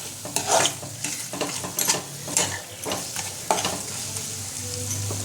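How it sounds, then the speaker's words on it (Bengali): Sugar is stirred into aloo dum spices frying in oil in a pan, a close continuous sizzle with repeated scraping strokes of a spoon and occasional clinks against the metal. "চিনিটা দিয়ে একটু নাড়বো।"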